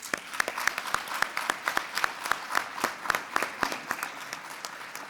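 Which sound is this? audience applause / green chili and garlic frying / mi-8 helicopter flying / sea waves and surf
audience applause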